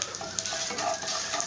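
Dried red chillies fry in hot oil for a banana fry dish, giving a steady close sizzle and crackle with small pops throughout and no voices.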